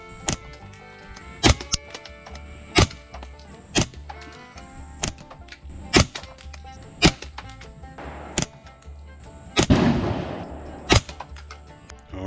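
A rifle with a suppressor fires 40-grain rounds at a range. Sharp, muffled reports come in a steady series about a second apart, each short and distinct, and no talking is heard.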